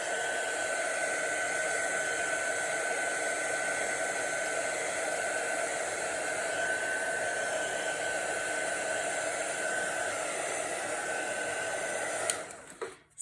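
A heat tool or hair dryer blows steadily and loudly to dry an art journal page, a constant airy whoosh lasting nearly the whole stretch before it cuts off abruptly near the end.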